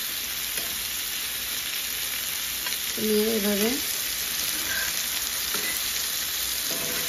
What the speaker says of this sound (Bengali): একটু বাটার দিয়ে আর কি এই চিকেনগুলো ভাজি করে নিচ্ছি